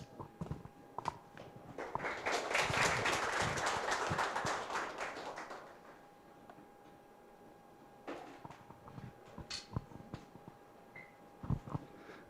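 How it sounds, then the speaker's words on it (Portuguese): An audience at an agricultural seminar on drones applauds for a presenter. A dense burst of clapping swells for about three seconds and then fades, followed by scattered claps, shuffling and footsteps in the room. "que também recebe os aplausos dos presentes"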